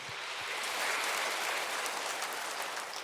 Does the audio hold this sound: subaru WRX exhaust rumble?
no